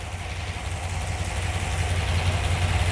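A Ford Y-block V8 in a Thunderbird idles steadily up close, its deep rumble and vibration continuous with a loose alternator shaking in its mount, a constant low throb without speech.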